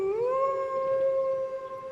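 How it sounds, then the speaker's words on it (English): Several wolves howl together in a long, sustained chorus of rising then steady tones, loud and close with no other sounds over it. "a group of wolves begin to howl together at the same time"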